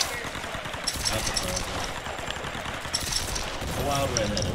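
Gunfire in Tomb Raider crackles in dense, rapid bursts, loud and close, with sharp shots repeating against a busy backdrop of combat noise.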